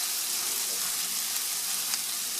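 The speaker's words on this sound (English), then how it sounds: "cook the bacon until it's thoroughly cooked and the fat is starting to render out" Chopped bacon frying with softened golden onions in a fry pan, a close, steady crackling sizzle with no talking.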